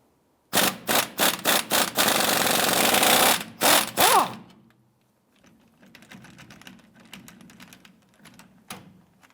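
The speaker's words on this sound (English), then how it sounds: "let's go ahead and remove the shock bolt" Rear shock bolt on a 2000-2006 Toyota Tundra loosened with a 17mm socket and 16mm wrench: a run of rapid ratcheting bursts up close, then quieter clicks and metallic handling.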